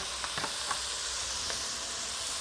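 Bay leaves, a rosemary stalk and sprigs of thyme toast in a hot pot with a steady, soft sizzle and hiss, a few faint crackles and pops breaking through.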